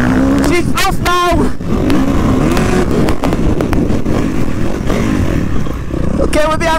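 A motocross bike racing a fast lap of a deep sand track at Haverigg, engine revving and shifting up and down loudly and close, with other bikes nearby and a rider talking throughout.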